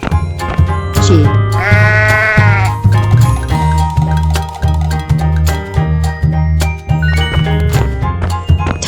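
A cartoon sheep in a 3D animal slide video game gives a loud, wavering bleat lasting about a second, followed by upbeat game music with plinks and jingles throughout.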